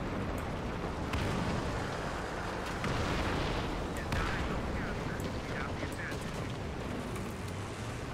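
Heavy rumbling combat din from the War Thunder battlefield, a continuous loud roar of artillery and gunfire with a few sharper cracks standing out, while a voice speaks briefly over it.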